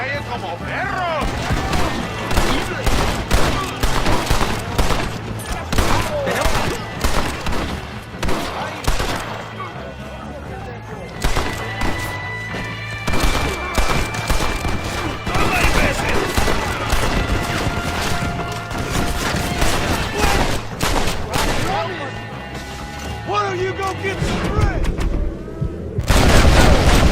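Rapid gunfire in the Western video game Red Dead Redemption: dense, repeated shots and volleys of varying loudness through most of the stretch, with speech and game sounds mixed in.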